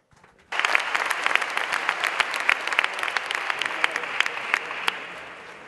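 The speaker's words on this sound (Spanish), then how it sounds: "me gustaría recibir con un fuerte aplauso a Ángela y María Jesús" An audience at a jota festival breaks into sudden, dense applause after a quiet start, sustained steady clapping from a crowd that carries on for several seconds before easing slightly at the end.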